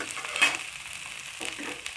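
Boiled potatoes frying in a pan for an omelette curry, a soft, fairly quiet sizzle with a couple of brief louder bursts of crackle or stirring.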